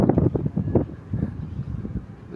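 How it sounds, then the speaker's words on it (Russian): Strong west wind buffets the microphone in loud, low rumbling gusts that rise and fall throughout. "Ну, сильный ветер, ничего не поделаешь."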